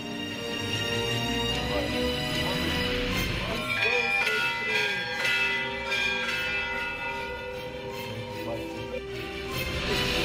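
Church bells ring continuously with overlapping resonant tones, layered and sustained, filling the whole stretch.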